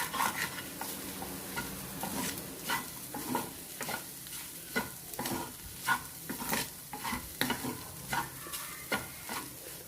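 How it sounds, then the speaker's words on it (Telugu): An egg mixture seasoned with pepper powder frying in a pan, stirred briskly so a continuous sizzle runs beneath rhythmic scraping strokes of a spatula, close by, with no voices. "దీన్నంతా మళ్ళీ మనం కలుపుకుంటూ 1/2 నిమిషం పాటు ఫ్రై చేసుకోవాలి."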